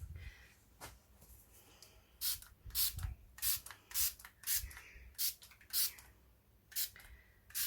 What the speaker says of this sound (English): Now I'm going to spray a little bit of water on that.